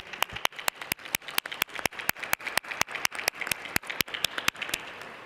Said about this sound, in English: please join me in giving the panel a round of applause.